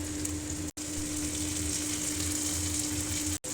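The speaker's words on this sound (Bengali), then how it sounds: "এবার আমি লঙ্কার পেস্টটা দিয়ে দেব।" Chili paste fries in a pan with a steady close sizzle and hiss, cut by two brief silent gaps.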